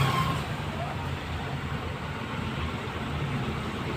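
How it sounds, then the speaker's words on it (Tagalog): Steady road traffic rumbles at a moderate distance, a dull continuous wash of passing vehicles and engines with no distinct horns, low in level throughout. "Ayan o, traffic o."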